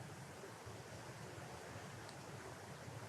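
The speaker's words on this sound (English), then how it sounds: "I can feel and hear the wind" Wind blows steadily outdoors, a constant broad rushing wash that stays even throughout with no voices.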